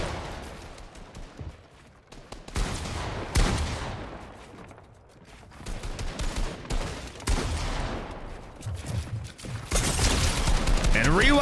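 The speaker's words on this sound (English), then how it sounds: "He's able to get a crack on ASIANJEFF, and the AR beam coming into play as well." Assault rifle fire in a Fortnite tournament box fight: rapid bursts of automatic shots mixed with building and mechanical game effects, dense and loud, with excited commentary talking over it.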